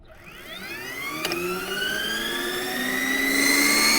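The Ristretto 512 carbon-fiber mid-drive e-bike motor whines on throttle, a close electric whir that climbs steadily in pitch as it speeds up, with a brief click partway through.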